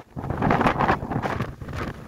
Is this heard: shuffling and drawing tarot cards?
no